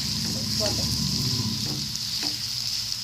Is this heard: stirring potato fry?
yes